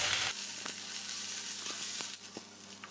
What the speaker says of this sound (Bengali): একটু ভাজা ভাজা করে নেব, যাতে আদা রসুনের কাঁচা গন্ধটা চলে যায়।